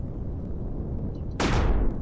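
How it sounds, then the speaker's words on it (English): A railgun fires at cannons in the space survival game Empyrion, a single sharp blast with a bright crackling burst over a steady background rumble, no talking. "So the railgun is really effective against"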